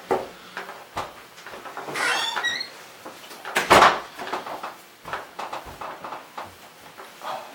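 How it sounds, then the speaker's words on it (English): A front door swings shut with a squeaking hinge and a firm knock as it closes, set among scattered indoor creaks and shuffling at moderate volume. "we should close that front door"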